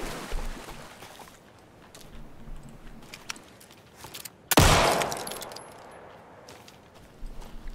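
Gunfire in the video game Alan Wake 2: one loud, sharp shot rings out mid-clip with a long decaying tail, framed by quieter ambient rumble and faint clicks before and after.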